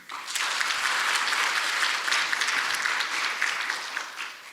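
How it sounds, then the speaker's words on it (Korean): Audience at a talk concert breaks into sustained applause, a dense wash of clapping that holds steady for several seconds before easing off slightly at the end. "우리 박수 한번 쳐주세요."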